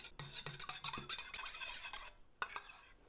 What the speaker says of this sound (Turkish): Şöyle iki yumurta. Bunu güzelce çırpacağız, karıştıracağız.